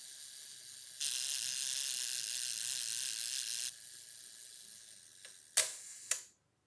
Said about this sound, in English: this tab here, what it's doing, it is to release the shutter.